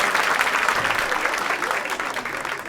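Comedy show audience applauding, a dense, lively burst of crowd clapping that stays strong throughout and tapers slightly toward the end, with no voices over it.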